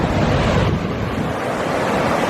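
Boulder Creek in Eldorado Canyon, Colorado, rushes past close by, a loud, continuous roar of moving water with some buffeting wind noise on the microphone.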